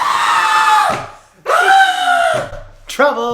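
A human voice imitating a screaming goat, three strained, loud yelling bursts separated by short pauses, the last one brief and cut off.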